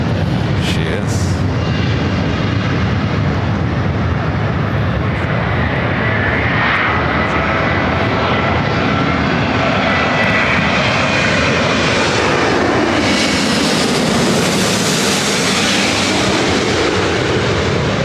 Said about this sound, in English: Japan Airlines, the Dreamliner, heading over to 24 left.